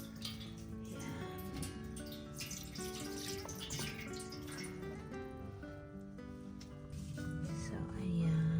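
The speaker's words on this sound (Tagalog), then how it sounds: "Tapos, add lang tayo ng water." Water from a tap runs into a pot set up for steaming smoked fish, a continuous splashing stream whose pitch shifts as the pot fills, close and steady.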